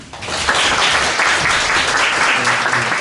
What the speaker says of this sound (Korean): 양정 교수님의 큰 박수 부탁드리겠습니다.